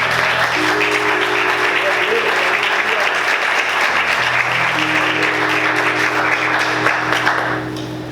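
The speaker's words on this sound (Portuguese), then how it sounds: "Queridos, você pode aplaudir o Senhor com bastante alegria?" A church congregation claps loudly and continuously during a Sunday service, dense applause over a sustained organ or keyboard tone, easing slightly near the end.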